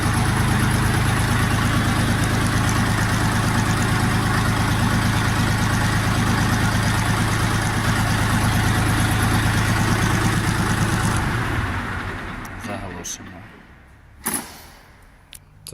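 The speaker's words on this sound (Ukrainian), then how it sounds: "Мотор прийомистий." Dongfeng DF 244 G2 minitractor engine running, a close, steady diesel throb that winds down and cuts off, followed by a few clicks and knocks.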